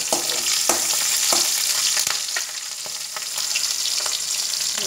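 Cumin, curry leaves, green chilli and garlic sizzle steadily in hot oil for a tamarind prawn curry, a loud continuous crackle broken by sharp pops and stirring clatters, with no talking.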